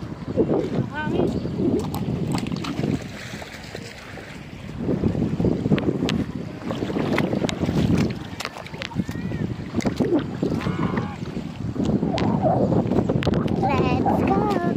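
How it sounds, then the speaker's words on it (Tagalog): Wind rumbles steadily against the microphone near water at a campsite in Norzagaray, with shouting voices and splashing mixed in throughout. "Hangin."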